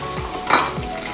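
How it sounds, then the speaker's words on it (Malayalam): Fenugreek, crushed ginger, green chili and garlic frying in hot oil for a mackerel chili curry, a close, steady sizzle with a brief louder burst of crackle and a light stir against the pan. "ഉലുവ ഉലുവയിട്ട് പൊട്ടുമ്പോൾ അതിനുശേഷം ഇഞ്ചി പച്ചമുളക് വെളുത്തുള്ളി ചതച്ചത്"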